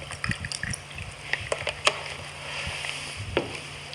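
Produce being set into a container of Kangen water with a pH of 11.5, giving soft liquid splashes and a few sharp knocks and clinks against the bowl, close and moderately quiet.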